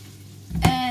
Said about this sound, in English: I want the potatoes a little bit more crispy, so give them another stir. Here in the lamb juice.